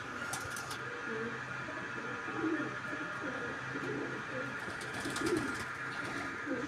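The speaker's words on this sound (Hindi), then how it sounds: "ये देखें, वो दूर एक कबूतर बैठा हुआ है" Soft, low pigeon coos repeat in a slow rhythm nearby, over a steady background hum and faint distant sounds.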